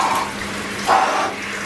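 Cold shower water running, a close, continuous hiss of spray with splashy surges, briefly louder near the middle, heard alone.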